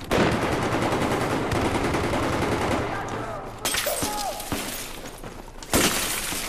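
Single-shot gunfire in Battlefield 4: loud, sharp reports ring out in a dense, busy exchange, then thin out into a few separate cracks with brief gaps, carrying a shattering, breaking-glass edge.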